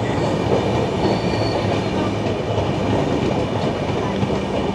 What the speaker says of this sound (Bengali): ট্রেন আমাদের প্রবেশ করছে উলবেরিয়া স্টেশন।